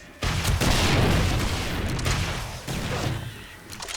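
Explosions fired off during a zombie horde night in 7 Days to Die with the Darkness Falls mod: a heavy blast bursts in, then a second boom follows about two seconds later, thick rumbling noise between them, with no talking.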